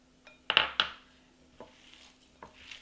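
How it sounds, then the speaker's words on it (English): Cooked cauliflower and potatoes being mashed together for gnocchi batter: a few close, sharp utensil knocks and scrapes against a bowl, with a cluster early on and softer taps afterward, no voices. "Mash them together really well."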